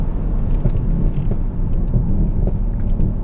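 Mercedes-AMG S63 Cabriolet with the roof up, a loud low engine rumble and road drone heard from inside the cabin, steady and without voices.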